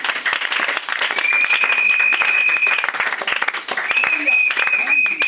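A church congregation claps loudly and steadily at a French-language service. The applause is dense and sustained, and a voice speaks over it throughout.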